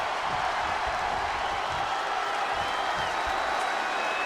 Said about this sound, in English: And the crowd showing the admiration for both these ladies.